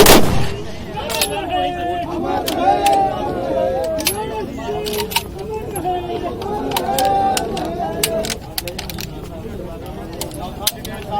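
Gun volleys of a 21-gun salute at a state funeral on a Ganga riverside ghat in Bihar, sharp cracks repeating irregularly through the clip over a dense crowd murmur and overlapping voices.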